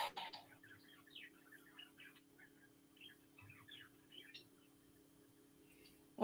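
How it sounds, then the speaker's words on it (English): Pet birds waking up give scattered, soft high chirps and tweets in short bursts over a faint steady hum, with quiet whispering in the room. "My birds were asleep. Now they're starting to wake up."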